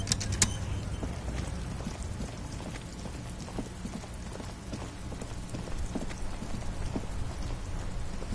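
Rain falls in a continuous hiss with scattered sharper drops and taps, steady and moderately loud throughout.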